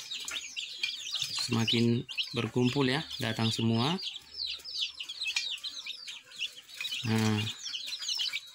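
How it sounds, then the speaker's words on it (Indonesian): Free-range village chicks cluck and peep in repeated bursts as they gather to feed, calling one another over; someone talks throughout in between the calls. "Nah, ayam akan makan satu ekor, maka akan memanggil yang lain"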